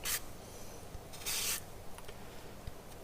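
A lemon rubbed against a sharp grater for zest for a lemon cake, giving a few short, scratchy rasping strokes, near and fairly faint, with quiet gaps between them.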